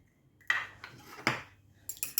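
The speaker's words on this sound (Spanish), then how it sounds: "Tengo aquí el huevo que habíamos reservado al principio. Lo voy a batir." An egg is beaten in a bowl with a utensil, producing a few distinct clinking strokes and scrapes against the dish, close and fairly crisp with short pauses between them.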